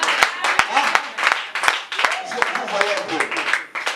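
A church congregation clapping hard in praise of the Lord, with sharp, irregular handclaps ringing out over shouting and singing voices for the whole stretch.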